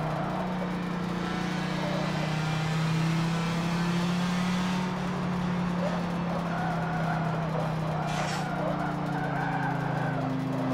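An Audi S1 quattro rally car drives and slides, its engine droning steadily at mid pitch with shifting tone and a brief harsh burst midway, continuous and fairly close throughout.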